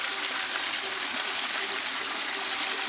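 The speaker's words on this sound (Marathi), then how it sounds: "धरणाच्या वरतून पाणी जातं" Water pours steadily over a small village dam at Kirlos near Malvan, Sindhudurg, making a continuous close rushing wash with no voices.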